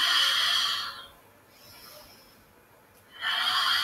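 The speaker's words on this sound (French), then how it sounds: "On inspire, on ouvre, on expire." Slow, deep breaths during a gentle relaxation exercise: a long airy inhale and exhale, a quiet pause, then another breath, close and soft with no talking.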